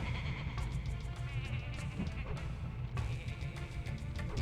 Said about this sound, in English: it's evil sheep